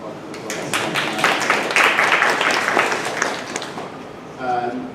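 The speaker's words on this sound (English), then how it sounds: "Big applause." An audience at a talk on African American biography breaks into applause, with dense, loud clapping that swells and then fades, followed by a speaker's voice at the end.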